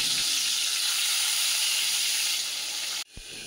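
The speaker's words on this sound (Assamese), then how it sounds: "মাছখিনি দুপৰীয়াৰ কাৰণে বনাবলৈ নিমখ হালধি সানি আৰু বলক ভাজি লওঁ" Fish coated with salt and turmeric frying in a pan, giving a loud, steady sizzle that runs unbroken for about three seconds and then cuts off abruptly into near silence.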